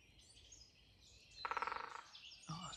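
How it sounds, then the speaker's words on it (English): Faint and distant, a woodpecker gives a quick run of about a dozen ringing call notes, with a few soft chirps before and after. "You might just hear the woodpecker now."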